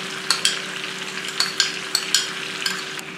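Red onion sizzles in a hot pan, a constant bright hiss broken by several sharp spatula taps and scrapes.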